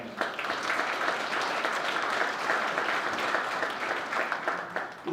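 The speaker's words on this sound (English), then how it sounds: "So a round of applause for them." Steady audience applause fills an advocacy event hall, a dense, even patter of many hands clapping for several seconds at moderate distance.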